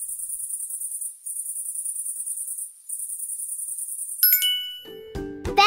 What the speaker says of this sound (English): That's a cicada.